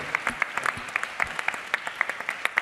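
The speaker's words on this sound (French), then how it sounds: "Voilà, on peut les applaudir." Scattered applause from an audience at an awards ceremony, a thin crowd clapping with distinct individual claps in an uneven rhythm, fairly close and moderately loud.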